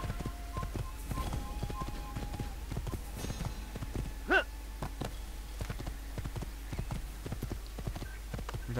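A galloping horse's hooves from the Assassin's Creed video game beat a steady, fast clip-clop rhythm throughout, close and prominent over a constant background bed, with a brief whinny-like cry midway.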